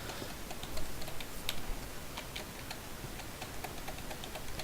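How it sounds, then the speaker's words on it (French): Quiet keyboard typing with scattered clicky keystrokes over a soft steady hiss, fairly close and irregular in pace. "Je sais pas si vous entendez mon clavier,"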